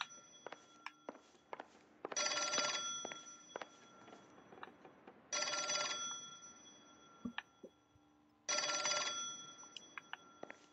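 An old-fashioned telephone bell in the video game L.A. Noire rings in three loud bursts about three seconds apart, with footsteps and small clicks between the rings and no talk.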